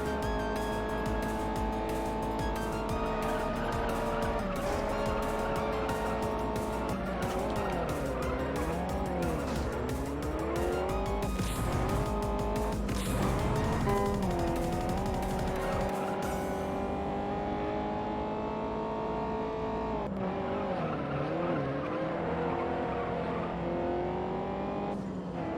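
Honda Civic race cars in the racing game Juiced roar through a lap with sustained engine whine, shifting pitch and repeated tire squeals through corners, loud and continuous with no talk.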